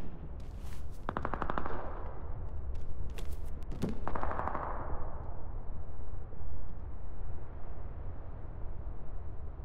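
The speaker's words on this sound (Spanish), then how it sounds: "hay disparos" Gunfire in the battle royale video game CRSED: Cuisine Royale, with rapid automatic bursts and sharp single shots early on, giving way to a rumbling, noisy background.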